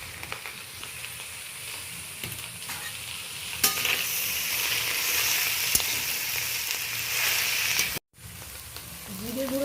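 Thankuni greens stir-fry with prawns, potato, eggplant and spices in a pan, a continuous sizzle that swells louder as ingredients go in, with sharp clicks of stirring and a short gap near the end.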